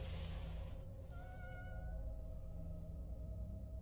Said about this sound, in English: the family's awoken by what sounds like a cat coming from the front door